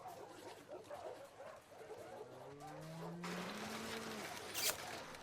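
A dog in The Last of Us video game whimpers and whines with soft, rising tones over faint background noise, quiet and fairly close, ending in a brief high sound.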